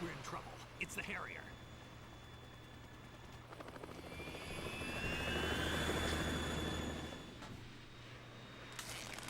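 Harrier jet engine in Metal Gear Solid 2, a whooshing, whining roar that swells to a loud peak midway and then fades, with a rising high whine and intermittent voices over it.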